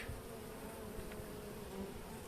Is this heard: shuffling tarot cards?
no